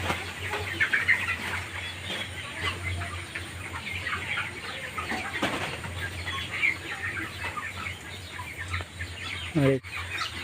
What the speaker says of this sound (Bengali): চব্বিশ দিনের মুরগির বাচ্চা